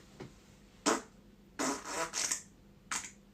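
A few short, breathy fart sounds, quiet and close, come in uneven bursts with brief pauses between them.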